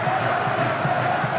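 Continuous roar of a rugby league crowd, Tony Smith's Barmy Army, cheering at a 2004 Leeds Rhinos versus St Helens match, a thick sustained wall of voices with no pause.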